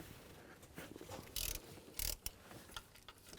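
A socket wrench ratchets on the tensioner bolts of a 2000-08 Chevy Tahoe, 15mm socket on the tool, giving quick close clicking runs and a few sharp metallic bursts with no talk.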